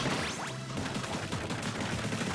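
Crab Tank cannon in Splatoon 3 firing a steady burst of rapid shots, a dense run of repeated bangs filling the whole stretch over game background sound, fairly loud and continuous.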